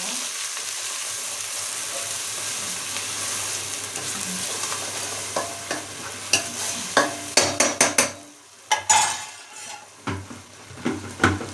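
Garlic fries in a pan for a fish curry, with a soft steady sizzle at first. Then a spoon stirs it, and a run of sharp scraping and clinking strokes against the pan builds close and loud toward the end.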